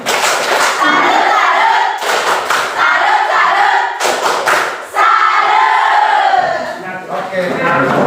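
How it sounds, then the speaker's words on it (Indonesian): A language class performs a rhythmic clap salute, with bursts of group clapping and loud chanted voices in patterned phrases separated by brief pauses. "Tepuk salut."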